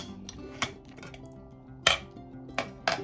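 Metal clinks from opening a pressure cooker lid after cooking vegetable curry, with a few sharp, close taps and scrapes over a low background hum.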